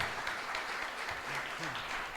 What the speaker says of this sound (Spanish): pedimos un fuerte aplauso para nuestro disertante